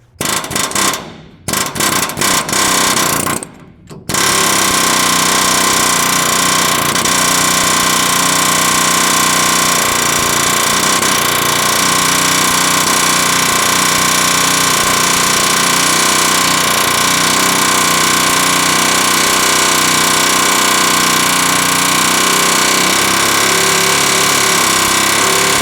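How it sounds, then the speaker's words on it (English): An air hammer drives out rivets on a 2008-or-later truck's rear leaf spring hangers, hammering in a loud, steady, rapid stream after a couple of short opening bursts, very close and without speech. "I personally like the air hammer"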